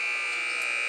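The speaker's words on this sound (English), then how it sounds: "as we get a buzzer, and Jordan Hines will enter the game" Basketball game buzzer at a varsity boys high school game between Amityville and Westhampton, sounding as a steady, fairly loud electronic tone that holds for the whole short moment without a break.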